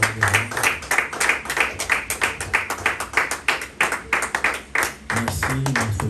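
Church congregation clapping in rhythmic bursts during a worship service, the claps steady and dense over music, with a short lull near the end before a low sustained tone swells.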